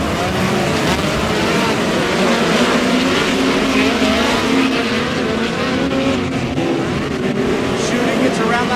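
POWRi West Midget League race cars roar around the Airport Raceway dirt oval in a loud, sustained engine drone, with an announcer talking over the noise.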